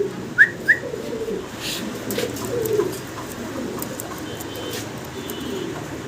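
Fancy pigeons held by a seller give soft, low cooing under quiet room noise, with two brief sharp chirps near the start.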